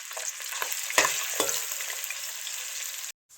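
Bitter gourds frying in ghee for keema karela give a steady close sizzle, broken by a few sharp stirring knocks, before cutting off abruptly near the end; no one speaks.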